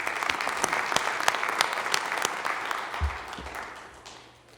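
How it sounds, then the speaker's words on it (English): An audience at an athletic hall of fame induction ceremony breaks into warm applause, a dense patter of many hands that swells briefly and then fades away. "Let's give them a round of applause."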